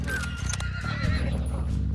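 A horse in Hunt: Showdown neighs and whinnies close by, a loud strained cry with hooves clopping underneath, filling the whole moment without talk.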